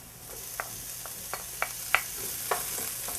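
Shallots and ginger fry in a hot pan with a soft, steady sizzle, broken by several sharp clicks of a utensil stirring and scraping at irregular intervals, close by with no voices.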